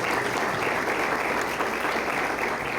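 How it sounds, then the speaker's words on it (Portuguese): An audience at a law lecture breaks into dense, sustained clapping, loud and close throughout with no speech over it. "Uma salva de palmas."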